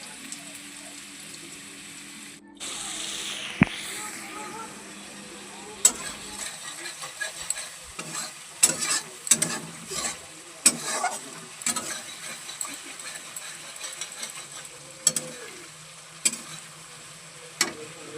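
Egg curry with fried eggs stirred in a pan, a soft steady sizzle broken by irregular sharp scrapes and clinks of a spoon against the pan, close and moderately loud, with no voices.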